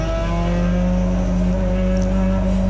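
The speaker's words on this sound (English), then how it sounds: "Waiting for the red lights to go out before nailing the throttle in second gear." A Peugeot 206 GTI race car idles loudly and steadily in the cab during a wet rolling start at Donington Park, a constant close engine drone with no speech.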